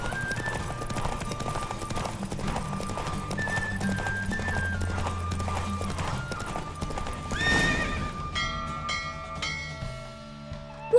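Rapid hoofbeats gallop steadily under game music in The Witcher 3, with a horse whinnying briefly near the end as the pace settles.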